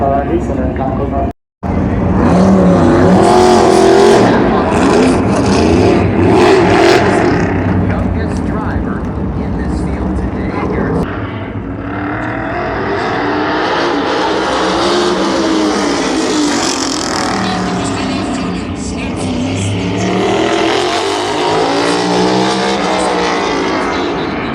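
NASCAR race cars run time trials at the NASCAR R&D Center test track in Concord, with loud sustained engine roar rising and falling as cars pass, heard from trackside under crowd noise and talk.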